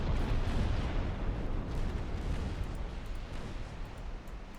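Torpedo salvo launched from a warship in Ultimate Admiral Dreadnoughts, heard as a loud, sustained rumbling boom that fills the moment and slowly tapers off, with no talking.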